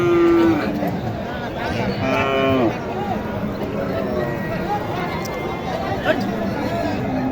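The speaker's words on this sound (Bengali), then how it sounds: "বিশাল বড় একটা গরু দেখেন" Cattle at a traditional livestock market in Naogaon, with a low moo and shuffling hooves amid a dense hubbub of crowd chatter and nearby voices talking.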